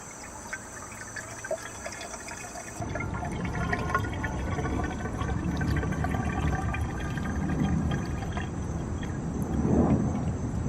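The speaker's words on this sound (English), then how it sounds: "And then we're going to start pouring." Brake fluid is poured from a bottle into a car's gas tank, a soft steady trickle and gurgle of liquid that starts a few seconds in and runs on quietly, with no talking.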